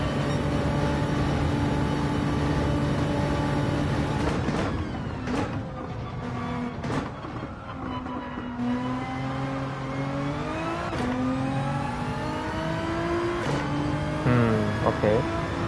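A race car in Gran Turismo 7 laps the Grand Valley track, its engine droning steadily and rising and falling in pitch through gear changes and revs, with brief gaps where the throttle lifts.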